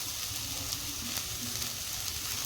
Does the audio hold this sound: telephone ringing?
no